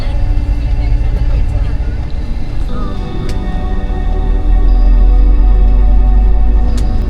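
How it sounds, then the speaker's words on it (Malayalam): A bus drives through the desert near Sam sand dunes, a steady loud low engine drone and road rumble throughout, with people talking over it. "മരുഭൂമി കൂടെയാണ് ബസ് ഓടി പോകുന്നത്."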